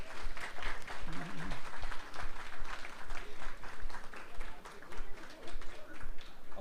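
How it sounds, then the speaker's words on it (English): Audience applause for award winners at a 2022 matinee night event, dense clapping from a crowd that rises and dips in waves, with voices mixed in underneath. "So how about a round of applause for all our winners in 2022?"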